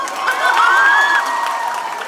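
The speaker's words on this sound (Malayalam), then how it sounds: "നല്ല കൈയടി കൊടുത്തേ." A crowd at a film promotion event claps and cheers, a loud dense burst of applause with shouts and whoops that swells and then holds steady.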